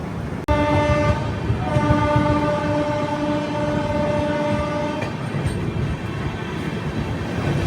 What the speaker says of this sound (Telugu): హాంకింగ్ విన్నారా? మన లోకోమోటివ్దే.